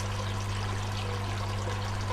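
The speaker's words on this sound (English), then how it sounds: "get a fresh lot of water in the bottle," Fresh water poured into a small test bottle, a steady gurgling trickle running continuously over a low mains hum, close by and with no speech.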